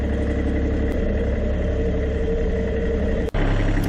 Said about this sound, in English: Just moving on to the front loader now.